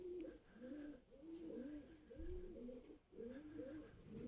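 Pigeons coo in repeated low, throaty phrases, close by and steady, with a faint higher chirp now and then in the background.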